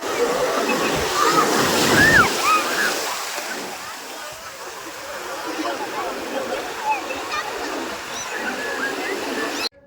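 Sea waves break and wash onto a beach where children are bathing, a steady rushing surf that fills the whole stretch, with faint voices now and then.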